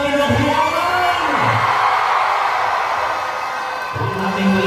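A large crowd at a Philippine campaign rally for Mayor Vico Sotto roars, cheers and shouts in a dense, sustained wash of voices, loud and continuous throughout.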